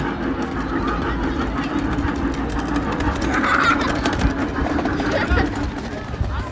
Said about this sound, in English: And the train.